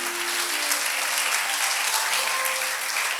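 A church congregation claps together in continuous, moderately loud applause that stays even across the whole stretch, with a faint hint of voices underneath.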